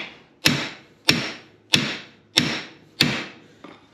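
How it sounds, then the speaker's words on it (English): A hammer taps a bolt to drive out a wheel bearing on a Polaris General 1000 utility vehicle. Five or six sharp, evenly spaced metallic knocks ring close and loud, each decaying quickly before the next. "I'll take a hammer and tap it a couple times on the bottom."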